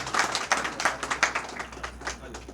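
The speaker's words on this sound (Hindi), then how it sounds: "जी जोरदार तालियां।" A crowd at the inauguration of a panchayat ghar claps in scattered, uneven bursts, with individual sharp claps standing out over a low steady hum. The clapping stays fairly faint and does not swell into full applause.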